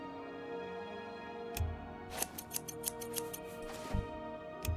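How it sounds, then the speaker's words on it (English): Scissors snipping in the fantasy role-playing game Oblivion: a quick run of crisp metallic clicks and cuts, with a couple of dull thumps, set over a steady background music drone. "Let's use those scissors before I forget."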